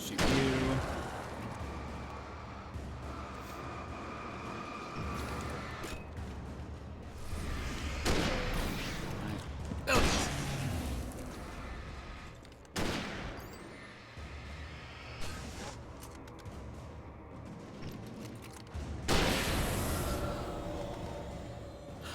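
Gunshots in the horror game Alan Wake Remastered crack out as several sharp, booming blasts spaced irregularly over a low, rumbling ambience.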